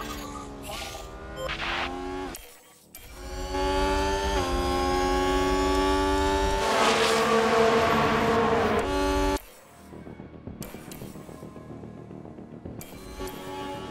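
A Formula 1 race car engine in a racing video game screams at high revs with a steady rising whine, cuts out briefly, then returns loud and sustained before dropping away to quieter track noise.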